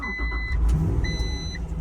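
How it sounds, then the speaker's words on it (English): An Acura NSX engine starting up and settling into a steady, fairly loud idle rumble, close by, with no one talking. "we're gonna put the key right there in the key slot. Foot on the clutch. And start her up."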